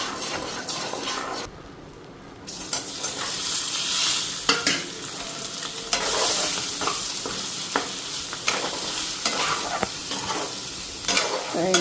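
Potatoes and spices (cumin powder, turmeric and salt) frying in a pan, with close, uneven sizzling and repeated stirring scrapes, a brief lull near the start, then continuous hissing with sharp spatula knocks.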